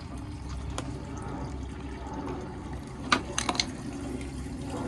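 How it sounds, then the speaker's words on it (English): Water running and trickling as an in-ground swimming pool's pipes drain during winterizing, a steady low wash with a few brief splashy drips near the end, no talking. "see how it's draining the water?"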